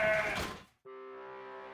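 A freshly shorn sheep bleats once, a loud, clear, wavering call that follows a shorter, noisier bleat and a brief pause.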